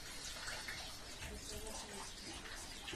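Rainwater runs off tin roof sheets and drips steadily into buckets during a persistent downpour, a continuous close wash of splashing water with no break.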